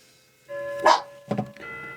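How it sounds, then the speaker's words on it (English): Several dogs barking indoors during a knitting session, two or three sharp barks with a pause between, fairly close, over a faint background hum. "I have to stop them barking for me, number one."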